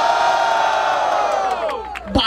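A crowd at a Brazilian rap battle in Barueri roars and cheers for a duo, a dense sustained wall of shouting and whooping that swells loudly and then dips near the end.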